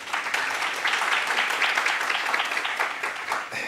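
Audience applause at a university optometry undergraduate research presentation, dense steady clapping from a crowd in a hall, sustained throughout at moderate loudness.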